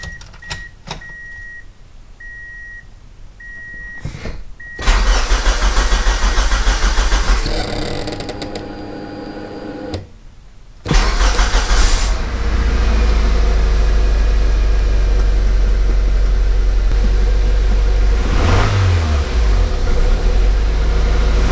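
A 2003 Toyota Matrix with a newly replaced fuel pump starts with a short crank, then its engine catches and settles into a loud, steady idle with a rev near the end.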